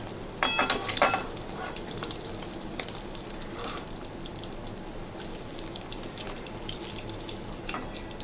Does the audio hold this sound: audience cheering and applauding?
no